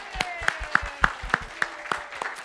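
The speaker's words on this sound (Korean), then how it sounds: "박수 한번 주세요" A church congregation gives a round of applause: about eight distinct, evenly spaced claps ring out in a steady rhythm, fairly close, over a quiet background.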